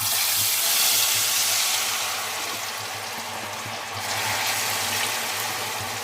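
A fresh batch of potato fries bubbling in hot oil, a loud continuous hissing sizzle that fills the whole stretch, easing slightly midway before swelling again, with no talking.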